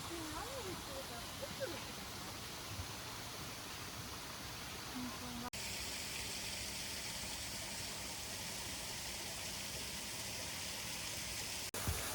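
Constant broad rushing of a river in Hakone, Japan, fills the scene, steady and fairly loud, with a few faint voices underneath.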